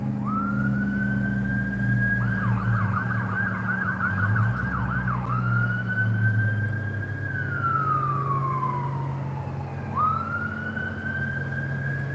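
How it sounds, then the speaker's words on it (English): A loud ambulance siren sounds nearby, moving from a long wail into a rapid yelp and back to a rising and falling wail. Its pitch drops as it goes past, then climbs again, with steady traffic rumble underneath. "Yeah, it's an ambulance."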